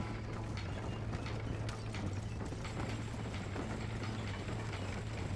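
Horse hooves clip-clopping steadily at a riding pace in Red Dead Redemption, a quiet, even rhythmic patter over a low hum, with tack rattling lightly alongside.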